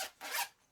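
A zipper on a knitted DIN A5 organizer is pulled in two quick, close rasping strokes, loud and alone with no voices.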